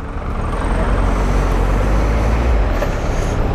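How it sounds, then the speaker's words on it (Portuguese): Steady, loud, heavy road traffic rumble heard from a Triumph Tiger 1200 XCA motorcycle at night, passing vehicles blending into a continuous roar, heard up close without pause. "Trânsito hoje meio pesado."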